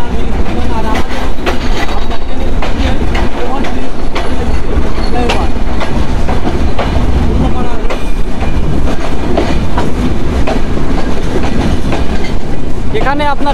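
The Chitra Express train runs on the rails after leaving Ullapara station in Bangladesh, with loud continuous rumbling and rhythmic clickety-clack from the wheels, and a brief squeal near the end.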